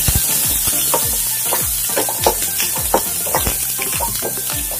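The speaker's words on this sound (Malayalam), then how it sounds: "ഇതിലേക്ക് എടുത്തു വെച്ചിരിക്കുന്ന ചെറിയ ഉള്ളി ചേർത്ത് കൊടുക്കാം." Small shallots drop into hot oil with popped mustard seeds for a curd snake gourd curry, a loud, close, steady sizzle with repeated sharp crackles and stirring scrapes throughout.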